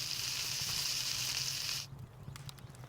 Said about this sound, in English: Okay, so I need to cook some. Can I cook some mutton?